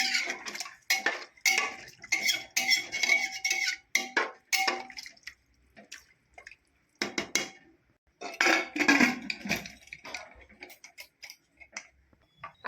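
Chicken curry stirred with hot water in a pressure cooker, a spoon clattering against the metal pot in a run of irregular scrapes and knocks, loud and close, easing off midway before a second busy burst.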